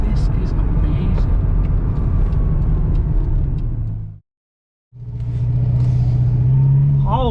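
A Ferrari 308 engine drones loudly and steadily while the car is driven, cutting out briefly in the middle before the same engine sound returns.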